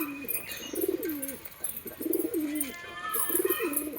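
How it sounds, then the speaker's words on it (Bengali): Three rolling coos from a domestic loft pigeon, seemingly affected by pox, come close and clear in an even rhythm, with faint chirping from other birds in the background. "এই পায়রাটা আসছে"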